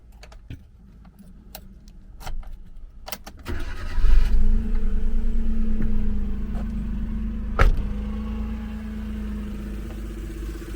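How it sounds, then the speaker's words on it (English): A van's engine cranks with starter whir and a steady drone after several clicks and key jangles, with a loud thump midway and no speech. "the van didn't want to start"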